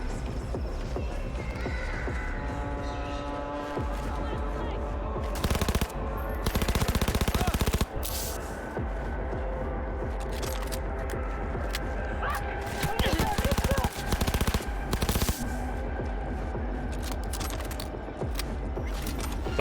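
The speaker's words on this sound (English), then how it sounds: "Is Pan Am shooting me?" Video game gunfire in Cyberpunk 2077, with rapid automatic bursts and scattered shots aimed at the player across a busy soundscape, loud bursts recurring through the clip amid other game effects.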